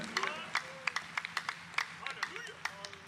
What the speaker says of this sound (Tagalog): Isang malakas na palakpak sa mahal na Panginoon.